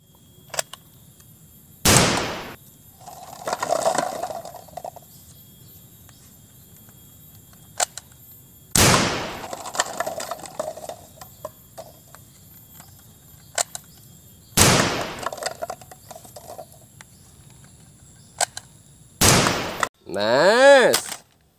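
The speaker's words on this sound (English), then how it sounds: "Extreme shotgun." Toy blaster shotgun firing, four sharp bursts spaced several seconds apart, each followed by a brief mechanical rattle, ending with a warbling electronic sound effect; close and fairly loud.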